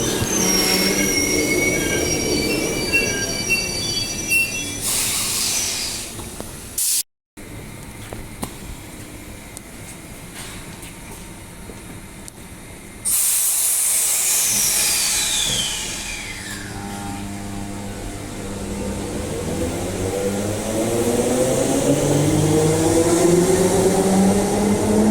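An outbound train pulls away from Bayswater station platform 2, its wheels squealing in long, high, wavering tones over a loud rumbling roll that swells and fades as the carriages pass close by.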